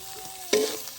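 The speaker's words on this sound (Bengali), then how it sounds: "আবারও মশলাটা ভালো করে কষিয়ে নিচ্ছি" Spices with chopped tomato and ginger paste sautéing in a pan for Bengali potol curry, a low sizzle broken by one sharp stirring scrape midway, close and brief.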